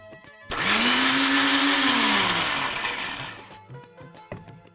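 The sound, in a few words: blender crushing blanched spinach with cold water into puree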